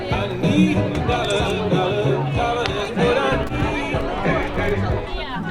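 A street crowd in Porto fills the air with overlapping chatter and babble from many nearby voices, busy and continuous with passing movement.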